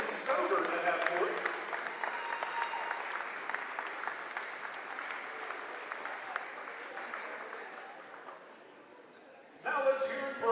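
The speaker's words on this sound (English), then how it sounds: "let's keep those applause going" A crowd in a gym at a girls' all-star basketball game claps and cheers steadily for the players, a loud, sustained wash of applause that thins toward the end before a public-address voice cuts in.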